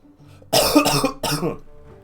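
A person coughs close to the microphone, two harsh bursts with a short gap between them, loud against an otherwise quiet background during a game commentary.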